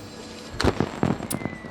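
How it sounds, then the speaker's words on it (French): Small fireworks go off on a victory screen in Civilization 7, a handful of popping bursts and crackles in quick succession after a quiet start, fairly close and clear with no talk. "il y a des petits feux d'artifice"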